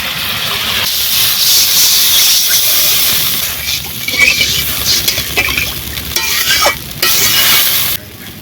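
Water is poured into a kadai of poppy-seed masala frying in oil for a koi fish curry, setting off a loud, continuous steaming hiss and sizzle close by, with stirring scrapes before it drops off abruptly near the end.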